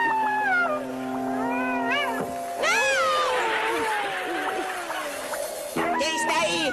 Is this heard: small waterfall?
no